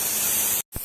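2K Speedokote primer sprays onto a car hood in a steady close hiss, cut off by a short silence near the end before a brief thump and a restart of the spray.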